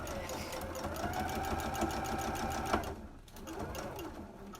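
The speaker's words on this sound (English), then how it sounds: "I'm just going to go ahead and sew at that 1/4 inch." Sewing machine running steadily as it stitches a fabric face mask at a quarter-inch seam, a continuous close whir that stops near the end, followed by quieter handling.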